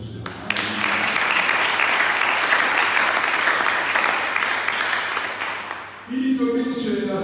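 A church congregation applauding the Lord in sustained, dense clapping that fills the space for several seconds before tapering, with music and voices returning at the end.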